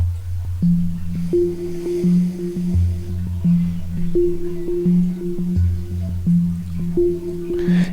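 Synth notes from an arpeggiator in Phase Plant step rhythmically through a repeating pattern of pitches, loud and close, with a low bass tone pulsing underneath.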